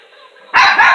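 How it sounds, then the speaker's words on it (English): A dog gives a single loud, close bark after a moment of quiet background sound. "Didn't I say, hey, I said don't bark."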